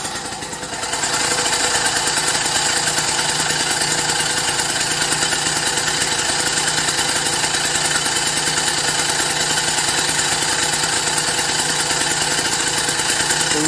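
Motobecane AV 33 moped engine catching and then running steadily, a loud, close, buzzing two-stroke putter with a fast even rhythm that holds for the whole stretch.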